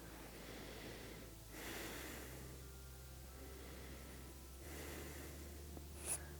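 Deep chest breathing during a yoga meditation breathing exercise, with slow breaths in and out heard close and fairly quiet over a steady low background hum.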